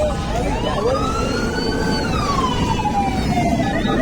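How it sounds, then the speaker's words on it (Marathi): A fire brigade truck arrives near a fire station with its siren wailing, a loud continuous rising and falling tone over a heavy rumble of traffic and engine noise. "फायर ब्रिगेडची पण गाडी आली"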